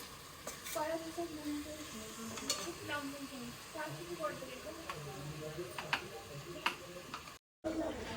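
Chicken pulao ingredients sizzle in hot oil while a spoon scrapes and stirs through the pan in steady strokes, with a voice talking over the frying throughout.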